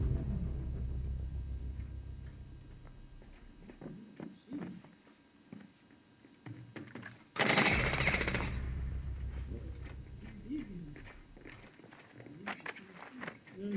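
A sharp burst of gunfire from Rainbow Six Siege X ranked play rings out loud and close in the middle, standing out briefly against steady game noise and a player talking.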